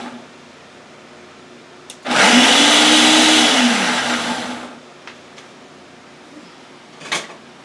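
Ninja blender whirring loudly as it mixes chicken salad, a steady high-pitched motor roar lasting about three seconds before winding down, followed by a few faint kitchen clicks.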